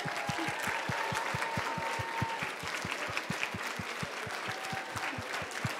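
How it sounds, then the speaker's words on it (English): A conference crowd of pro-life students standing to cheer and applaud, steady dense clapping with a strong rhythmic clap beat throughout, loud and continuous with scattered shouts. "let's just cheer for each other that we're here this morning to fight for life"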